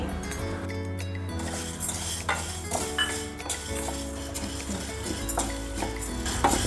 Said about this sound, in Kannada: ಘಮ್ಮನ ತನಕ ಹುರ್ಕೋತಾ ಇದ್ದೀನಿ ನಾನು